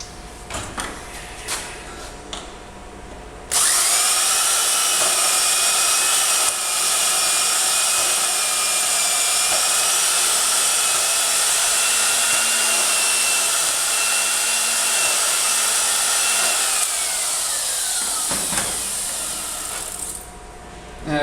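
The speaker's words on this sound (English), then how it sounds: "we're just going to use the Portaband to cut it off" A Portaband portable band saw cuts through metal stock in a workshop, a loud steady whining, buzzing cut that starts abruptly, runs for about seventeen seconds with a slight pitch shift, then stops.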